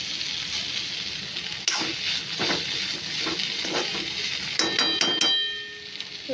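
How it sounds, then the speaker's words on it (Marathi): Taakla wild greens cook in a pan while a utensil stirs them, giving a soft continuous sizzle broken by scraping strokes, with a few brighter metallic clinks near the end. "अशी 1-2 मिनटं ढवळून त्याच्यावर झाकण ठेवा."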